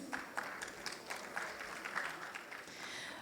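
Scattered applause from a seated audience follows a speech at a conference panel, a fairly faint patter of hand claps heard briefly and at some distance.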